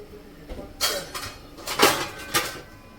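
Dishes and cutlery clink in a home kitchen as a plate is taken while aloo paratha are made: several quick, fairly close metallic and ceramic clinks, with no talk.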